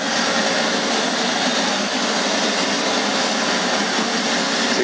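A model jet turbine in a model F-16 roars continuously at close range, a loud, steady high-pitched whine and rush with no pauses, on a cold day outdoors.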